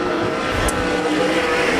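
Sprint cars race through a turn at Arizona Speedway during a Hall of Fame Classic desert heat race, a loud, close, continuous engine roar over a brief burst.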